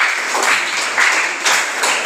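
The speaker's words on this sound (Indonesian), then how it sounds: "tepuk tangan untuk kita semuanya." Students in a classroom clap together, a loud, close, dense burst of hand clapping with slight surges in rhythm, lasting a couple of seconds.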